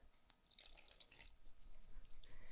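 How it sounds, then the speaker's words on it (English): A quarter cup of water poured into sourdough discard tortilla dough, heard as faint, close trickling and dripping with a sharp drop at the start, then a soft continuous splashing stream. "So now we're adding our 5th ingredient, which is a 1/4 cup of water."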